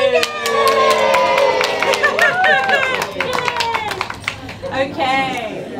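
Audience applause and cheering at a Pacific Islands Development Program event, a dense crowd of clapping with whoops and raised voices, loud and close throughout, thinning slightly toward the end.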